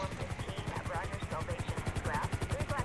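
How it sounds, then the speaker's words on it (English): A helicopter in the video game GTA 5 thumps with a fast steady rotor chop throughout, fairly close, under scattered game sounds and faint voices. "Oh man, another chopper."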